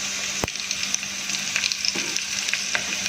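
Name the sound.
batter sizzling in hot tempering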